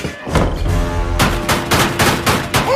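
Bursts of gunfire from a film scene crack out in a loud, rapid string, several sharp shots following one another in quick succession with no talk.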